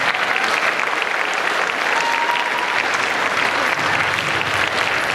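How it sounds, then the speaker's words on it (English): Steady, dense applause from a convention crowd for a cosplayer posing on stage at a cosplay contest, loud and continuous throughout with no pause. "give her another round of applause as you guys up the stage"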